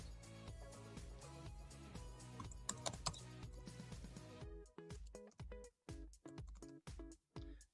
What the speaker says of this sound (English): let's see what happens if I don't type my email address correctly the second time.